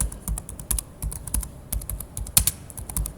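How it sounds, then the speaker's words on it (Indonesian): Keys clatter on a computer keyboard as a Cisco router command is typed, in quick irregular bursts of close, crisp clicks with brief pauses between them. "kita ketikkan lagi di sini encapsulation .1 key 30"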